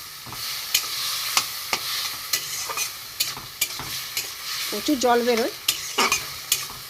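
Bombay duck (lota fish) seasoned with salt and turmeric fries in a pan, giving a steady close sizzle with regular scraping stir strokes, and a voice speaks briefly in the middle.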